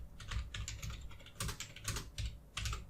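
Typing on a computer keyboard, bursts of close key clicks in an uneven rhythm separated by short pauses, fairly quiet and with no talking.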